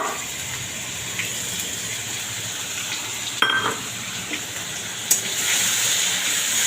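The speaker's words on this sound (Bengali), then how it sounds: "আমার তেলটা গরম হয়ে গেছে, এবার আমি এই বাটনাটা এতে দিয়ে দেবো।" Spice paste hisses and sizzles steadily in hot oil, close up, with a few sharp spatters and a louder burst near the end.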